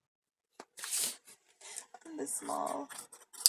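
Scissors snip through the fabric of a dress being cut down into a crop top, in a few short, close crisp cuts between stretches of talking.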